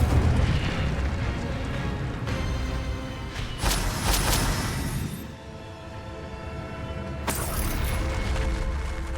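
Blasts of spell effects in Hogwarts Legacy, including the Incendio fire spell, erupt as loud booming, crackling bursts over a dense, rumbling game soundscape, with several sharp flare-ups across the span.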